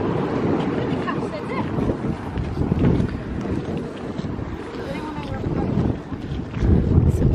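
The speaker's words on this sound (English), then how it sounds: "It's raining and it's windy." Strong wind buffets the microphone in rumbling gusts, with surf and open-air noise behind it at a beach in Cornwall, in the rain.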